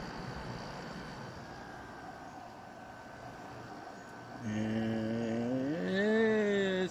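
A new, unused 2013 Frigidaire 5000 BTU air conditioner with a Welling fan motor runs with a steady, close airy whoosh. Partway through, the sound grows louder and a wavering tonal whine rises over the hum.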